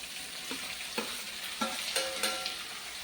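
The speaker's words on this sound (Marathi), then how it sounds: "या भाज्या फोडणीमध्ये या भाज्या चांगल्या एकत्र करून घेऊया" Potato, red pumpkin and other vegetables stirred in hot tempering in a pan, a low steady sizzle with a few soft scraping strokes of the spoon, quiet and close, no talking.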